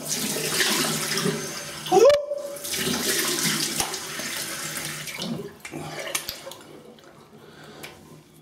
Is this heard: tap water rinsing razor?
yes